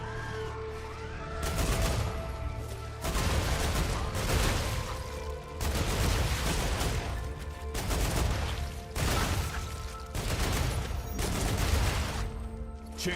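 Gunfire in the video game StarRupture: sustained bursts of rapid automatic shots in several volleys separated by short gaps, loud and dense, with no talking.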